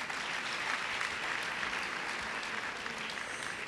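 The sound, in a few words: audience applause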